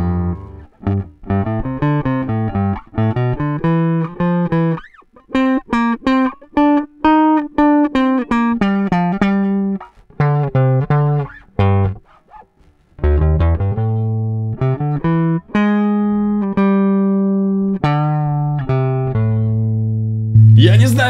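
Bass guitar played through a tube preamp pedal, first dry and then with the preamp engaged, giving a series of clear, sustained low notes and phrases with short pauses between them and no talking.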